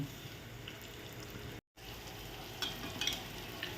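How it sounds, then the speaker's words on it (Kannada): Chopped tomato and a green chili fry in a pan with a soft, steady sizzle that is quiet and close, briefly cutting out and then carrying on with light stirring. "ಕಟ್ ಮಾಡಿದ ಟೊಮೆಟೊ, 1 ಹಸಿಮೆಣಸು, ಚೆನ್ನಾಗಿ ಬೇಯಬೇಕು."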